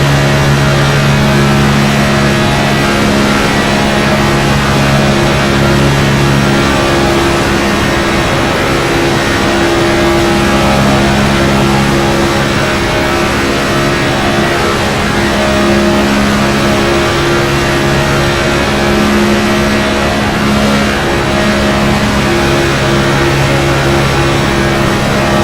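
Race car engines in an iRacing simulation of the Daytona 500 drone in a steady, loud, continuous roar throughout, with sustained engine tones holding at a constant pitch and no speech.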